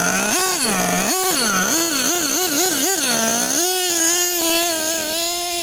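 Gas-powered Losi LST XXL2 RC truck engine running steadily up close, a loud buzzing two-stroke drone with several quick throttle blips and revs before settling into a higher, even idle.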